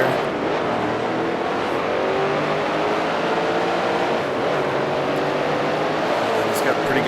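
Steady engine drone of a 1971 Can-Am race car in the Grand Prix Legends racing game, holding a continuous whining roar near and loud throughout, with slight pitch shifts as revs change.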